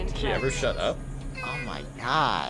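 A cat meows repeatedly, with drawn-out, wavering cries heard under and between people talking nearby.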